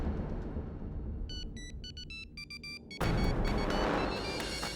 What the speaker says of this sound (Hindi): ये शायद अवनी का फोन